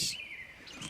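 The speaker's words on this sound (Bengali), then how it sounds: "চারিদিকে পাখির ডাক" Birds call in a forest near Kalimpong, with a brief, faint high-pitched chirp fading in and out over quiet woodland ambience; insect-like trills may mix in.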